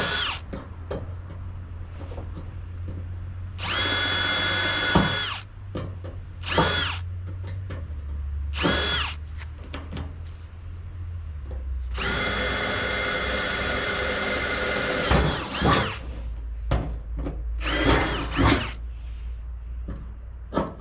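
A power drill whines in several bursts, short pulses then a long sustained run, loud and close, with pauses between as it bores holes into a trailer.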